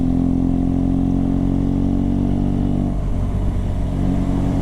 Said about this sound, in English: Brother, look at this motorbike.